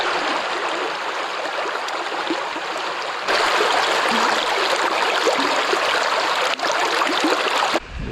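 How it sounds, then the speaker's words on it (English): A well-filled river in Victoria's high country rushes steadily nearby, a broad continuous roar of flowing water that grows a little louder partway through, with no talking. "As you can see, the river's awesome. Plenty of water coming down it at the moment"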